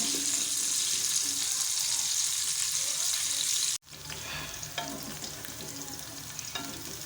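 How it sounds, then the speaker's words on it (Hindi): Onions frying in oil for beef nihari, a dense steady sizzle that cuts off abruptly, then resumes quieter with scattered clinks and scrapes of stirring. "अब हम इसमें डालेंगे प्याज और प्याज डालने के बाद हम जब तक इसको हम फ्राई करेंगे जब तक ये हल्का सा ब्राउन ना हो जाए।"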